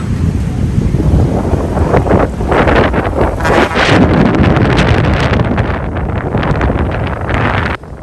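Strong wind roars and buffets the microphone continuously, loud and gusty throughout, strong enough to blow away canopy tents, with no voices.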